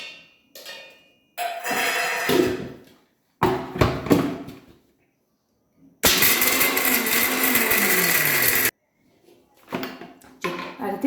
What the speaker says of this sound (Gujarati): તો પહેલાં આપણે સિંગદાણા અને લીમડાના પત્તાને પીસી લઈશું અધકચરા।